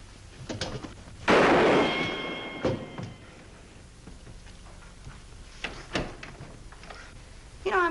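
A single sharp gunshot fired to shoot an object out of a man's hand in a 1950s Annie Oakley western TV episode, a loud crack followed by scattered thuds and clicks.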